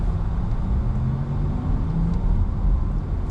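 Porsche Taycan 4S electric car from 2020 driving in sport sound mode, giving a steady synthetic hum with faint tonal whines over low road rumble, continuous and close throughout.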